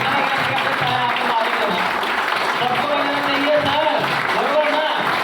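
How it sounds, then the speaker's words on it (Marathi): A large Marathi-speaking audience at a speech event in Latur applauds the host, with dense continuous clapping at steady loudness throughout. "असे रिस्पेक्टेड आजचे होस्ट मिस्टर इर्शाद सरांसाठी एकदा मनापासून जोरदार टाळ्या द्यायला पाहिजे"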